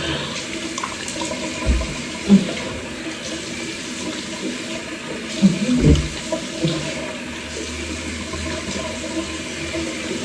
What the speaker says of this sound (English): I just have to wash my face